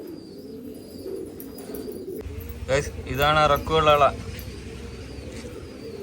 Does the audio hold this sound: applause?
no